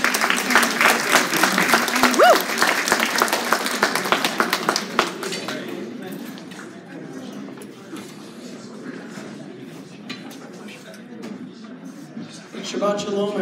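Audience applause for a poet at a synagogue cafe evening, loud and dense at first, then thinning into scattered claps and murmuring before a voice begins near the end.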